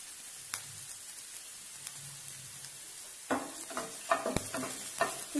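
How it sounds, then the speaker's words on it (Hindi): Chopped ginger and garlic hit a couple of spoonfuls of hot oil in a pan, a soft steady sizzle with scraping stirs that grow busier and louder partway through, no voices. "अब हम इसमें अदरक लहसुन का जो हमने काट के रखा था वो हम डालेंगे"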